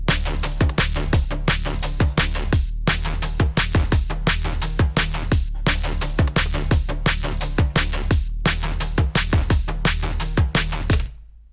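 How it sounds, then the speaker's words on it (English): A percussive drum and bass synth lead built in the Vital synthesizer loops steadily and loudly, with sharp, clipped plucky hits in a fast syncopated rhythm over a deep sustained bass that cuts off at the end, with no voice. "Let's make a percussive lead sound in 3 minutes"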